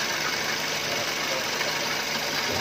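A Toyota Avanza or Daihatsu Xenia engine idles steadily after an oil leak repair, a continuous low rumble with a faint knocking texture, close and unchanging throughout.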